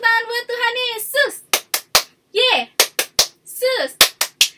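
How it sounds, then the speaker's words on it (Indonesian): Clapping for Jesus at an HKBP Tangerang Kota Sunday school service, sharp hand claps in quick groups of two or three, alternating with a voice calling out between them. "Tepuk tangan buat Tuhan Yesus."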